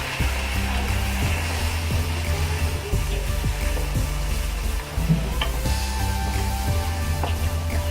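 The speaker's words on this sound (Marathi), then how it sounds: "एक चणे उकडलेले मी टाकते त्याच्यामध्ये." Boiled chickpeas dropped into sizzling Punjabi chole gravy and stirred, a loud steady hiss with a low hum beneath and a few soft scraping knocks partway through, no talk.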